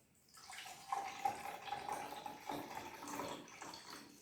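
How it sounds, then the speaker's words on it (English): Liquid mixture poured into a 260 ml glass beaker in a school science demonstration, a steady close trickling and splashing stream running for several seconds with a faint rising tone. "Now pour the mixture into the beaker."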